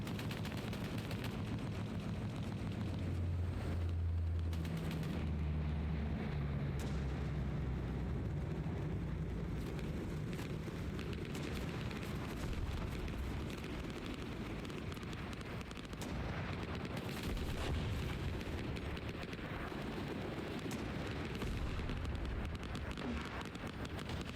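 Explosions and gunfire fill the Vietnam battlefield of the video game Hell Let Loose, a dense, continuous roar of distant booms and crackling shots with rumbling low-end throughout.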